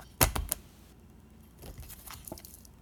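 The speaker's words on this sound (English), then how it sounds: "They told me to shuffle that again because there's a card that I might need to get." Tarot cards are shuffled in close, sharp bursts of papery riffling and slapping at the start, then softer scattered rustles and taps as the deck is handled.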